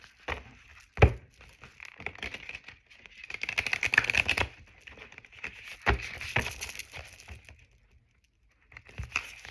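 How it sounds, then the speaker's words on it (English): Tarot cards being shuffled by hand in a quiet room, crisp riffling and tapping bursts in uneven clusters with pauses between, close and fairly soft. "We're going to shuffle 3 times"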